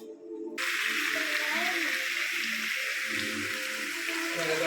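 Meat dropped into a hot pan for Spanish paella sets off a steady, loud sizzle that hisses on without a break, close to the pan and with no talking.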